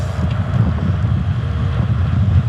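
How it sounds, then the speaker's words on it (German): Strong wind of about 5 Beaufort blows during a long road bike ride, a constant low rumbling buffet on the microphone with no speech. "Noch haben wir den Wind von hinten und der Wind bläst ziemlich kräftig mit 5 Beaufort."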